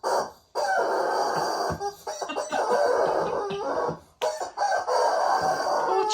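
A loud rubber chicken toy squawks again and again as a blue Staffordshire terrier plays with it, the shrill honking squeals running almost continuously with a couple of short breaks.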